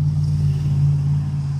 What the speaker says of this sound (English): Sorry about that road noise there